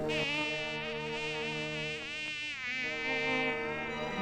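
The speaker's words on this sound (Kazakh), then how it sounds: "ызыңдаған Маса бірдеңе айтқысы келіп, ыз деп сар қағады" A mosquito's whining buzz from a narrated folk tale, held steady and close for about four seconds with a sustained, harmonic drone that wavers slightly in pitch, with no talking over it.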